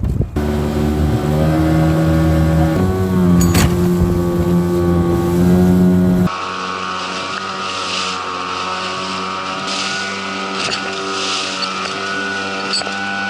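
A small fishing boat out octopus fishing runs its engine with a steady loud drone, the pitch shifting partway through as the throttle changes, and wind buffeting the microphone.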